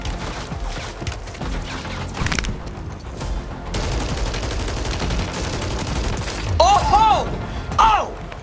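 Bursts of gunfire in Call of Duty Warzone crackle up close, rattling in rapid volleys over a busy in-game background, with some mechanical clatter and shrill tonal effects near the end.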